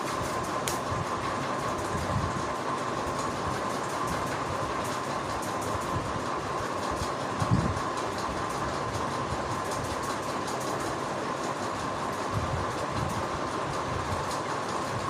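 A sewing machine runs a finishing seam on an apple-cut kurti, giving a steady, close mechanical whir and rapid clatter that continues unbroken with no voices.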